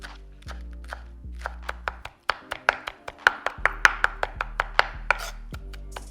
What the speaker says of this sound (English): I'm gonna finally chop my cilantro